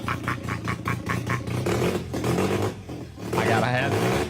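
A carbureted rotary engine in a truck idles with a steady, throaty rumble, revving up briefly as people talk loudly over it nearby.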